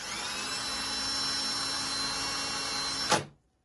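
A power driver whirs steadily while a screw fails to bite into kayak rack material, a continuous motor hum lasting about three seconds before cutting off abruptly.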